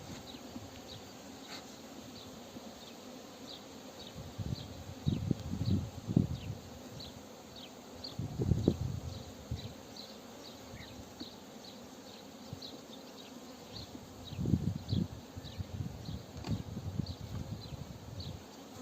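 Honey bees buzz around an opened beehive during hive inspection, a soft continuous drone with occasional louder swells as individual bees pass close, over a faint steady background hiss and scattered handling sounds.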